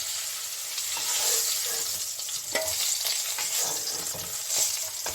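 Oil sizzles and crackles steadily as rohu fish fries in a pan, with occasional scraping and stirring sounds and no talking.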